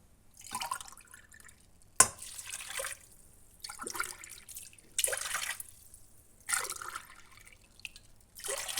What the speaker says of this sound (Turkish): Üzerine 3 su bardağı su ilave edeceğim.